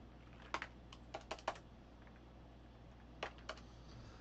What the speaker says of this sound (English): So we just type that in